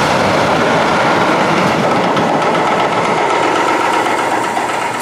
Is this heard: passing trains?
yes